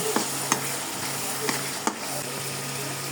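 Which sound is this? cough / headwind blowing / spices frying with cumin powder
spices frying with cumin powder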